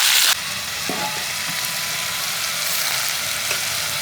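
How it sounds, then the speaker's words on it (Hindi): Mustard flower greens frying in a hot kadhai give a loud, steady close sizzle. A sharp hiss bursts at the start as they hit the oil, then settles into an even crackle. "तनी भुजा जाए तो सरसों का साग डाला।"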